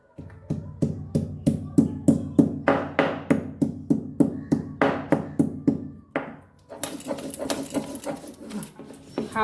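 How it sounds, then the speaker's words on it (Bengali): Fresh ginger is ground by hand for dosa batter in a string of regular, evenly paced knocking strokes, close and fairly loud, then a rougher scraping rub. "আদাটা বেটে নিই"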